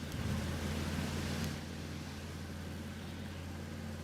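A boat travels across open sea off the coast of Toba City in a video game, a steady low engine drone with a wash of water noise, even and continuous throughout with no talking.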